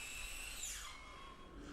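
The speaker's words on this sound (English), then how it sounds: "Using power tools" A power tool whirs briefly at a faint distance, its pitch rising and then falling as it spins, with no voices present.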